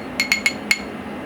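A spoon clinks four times against a glass holding currywurst sauce, giving short bright taps in an uneven rhythm, close and clear over quiet room tone.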